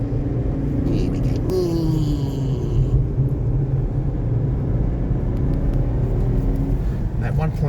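Renault Duster 4x4 with a 1.2-litre three-cylinder petrol engine and manual gearbox, heard from inside while driving: a steady low hum and rumble with a brief rising rev, with a voice speaking over it.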